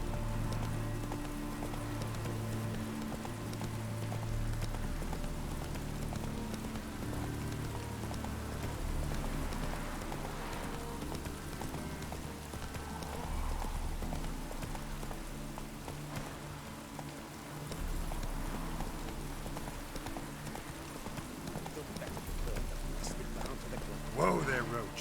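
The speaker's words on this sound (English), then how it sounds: "Whoa there, Roach. Take it easy." A horse gallops in The Witcher 3 on a rainy road, its steady rhythmic hoofbeats running for the whole stretch under falling rain, with occasional spoken lines over them.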